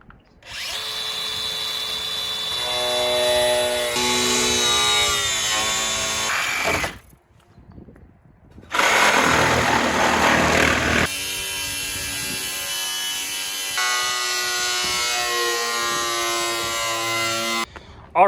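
A power tool cutting access holes for a battery in a lifted Panther vehicle, whining loudly and steadily in two long bursts separated by a short pause, with the pitch shifting as the cut bites.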